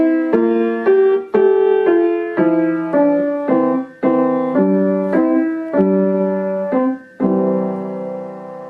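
Piano plays Ode to Joy with an alternate left-hand accompaniment, a steady melodic line of struck chords and notes, clear and close with no talking.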